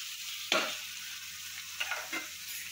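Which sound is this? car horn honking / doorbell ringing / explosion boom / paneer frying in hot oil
paneer frying in hot oil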